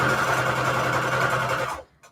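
A sewing machine stitches zigzag around a paper envelope, a close, loud steady mechanical whir that cuts off just before two seconds, leaving a brief click.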